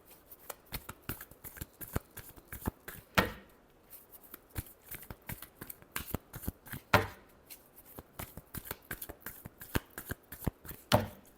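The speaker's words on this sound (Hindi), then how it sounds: "Last shuffle." Tarot cards being shuffled by hand, a close, crisp run of riffling flicks and soft slaps in an uneven rhythm with a few louder snaps, heard alone without talk.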